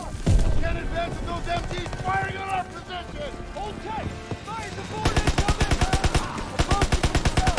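Rapid machine gun bursts crackle through a Call of Duty WW2 battle. Shouting voices and other shots mix in, and tight rhythmic firing dominates the final seconds.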